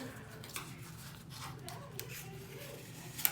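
Quiet paper rustling and rubbing as paper is folded and creased into an origami box, soft irregular scrapes and a few small crisp creasing sounds close by.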